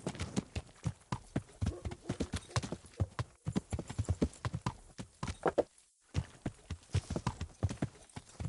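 Steady clip-clop of horse hooves while riding in Kingdom Come: Deliverance, a fast even rhythm of close, crisp hoof strikes that continues almost without pause, with a brief gap near the end.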